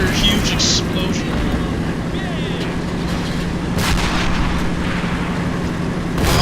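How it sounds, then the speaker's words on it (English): Explosions and artillery fire in the WWII strategy game Men of War Assault Squad 2, with tanks blowing up: a dense, continuous rumble of blasts and gunfire, louder bursts near the end, with a voice talking over the battle. "There's another huge explosion."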